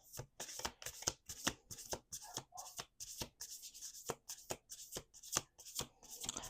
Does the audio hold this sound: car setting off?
no